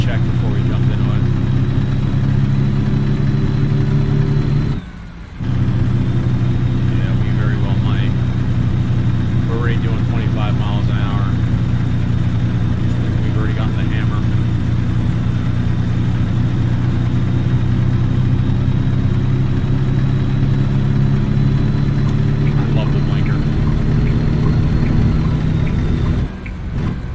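A truck engine in American Truck Simulator lugging at low revs, with a steady, loud, deep drone throughout and two brief cuts, while someone talks over it.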